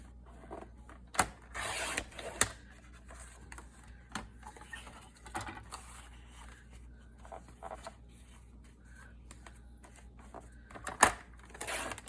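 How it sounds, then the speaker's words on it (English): Scissors snip through paper while a 6 by 6 inch square is cut out, giving a few sharp, quiet crunching cuts with soft rustling and handling noises between them, close up and without talk. "Now I'm going to cut out a 6 by 6 inch square."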